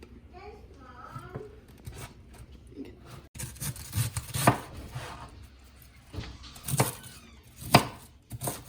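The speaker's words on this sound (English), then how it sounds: "Keep doing that until the whole cabbage is cut up." A knife chops cabbage for sauerkraut, irregular crisp cuts and thuds on a board, close and moderately loud, with a voice speaking softly at the start.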